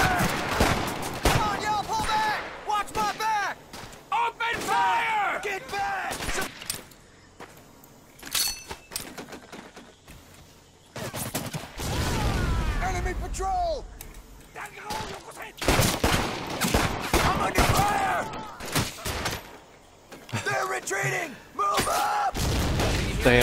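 Rapid bursts of gunfire from the World War II shooter Medal of Honor, with heavy volleys and deep booms in clustered waves separated by brief quieter gaps, while players shout and talk over the chaos.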